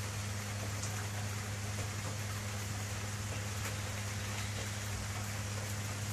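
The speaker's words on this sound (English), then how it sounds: "it's just basically just a light rain coming through" Steady, even hiss of light rain from Tropical Storm Nestor in Florida on a calm morning with very little wind, continuous throughout over a low hum, with no voices.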